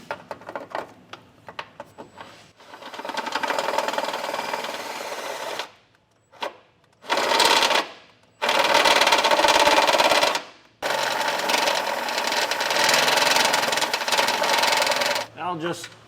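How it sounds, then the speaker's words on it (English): Close, loud bursts from a drill with a step bit enlarge a hole in the frame of a 2024 Subaru Crosstrek for a trailer hitch, several on-off runs with short pauses between them. "Now we're going to use a step bit in order to enlarge this hole."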